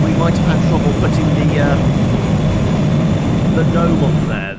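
A plane engine in the video game PowerWash Simulator drones as a loud, steady low rumble, with faint chattering voices layered over it.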